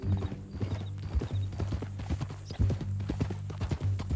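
Steady clip-clop of horse hooves on hard ground in the video game Red Dead Redemption 2, a brisk regular rhythm over a low humming drone, with no voices.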